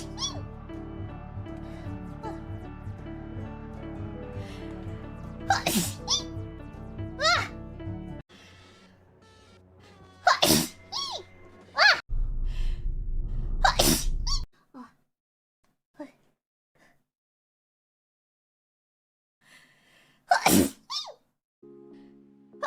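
Repeated sneezes burst out one after another, several sharp loud explosions spaced across the stretch, over a music bed in the first part and then near silence between sneezes.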